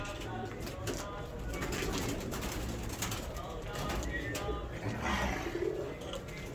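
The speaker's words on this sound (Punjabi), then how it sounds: "ਆਹ ਦੇਖੋ ਭਾਜੀ, ਇਹ ਕਬੂਤਰ" Pigeons coo faintly and repeatedly in a rural loft, with a low murmuring background and occasional rustling; someone talks nearby over the birds.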